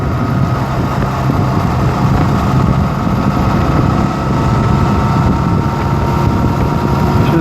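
A Honda Rebel 250cc motorcycle cruises along a highway, its engine drone steady and loud under heavy wind rush across the microphone, continuous with no pauses.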